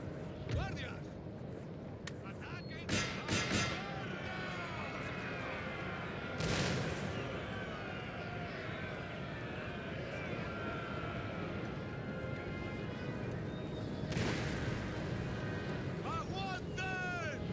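Cannon fire in a Napoleon: Total War battle, several sharp booms spread through a long stretch of distant rumbling combat noise, with a voice talking over it.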